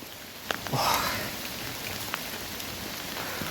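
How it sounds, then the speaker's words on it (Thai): Steady rain falls throughout at Pha Nang Khoi cave in Rong Kwang, Phrae, Thailand, a dense hiss with a few louder drops pattering nearby; no voices. "ฝนมันตก"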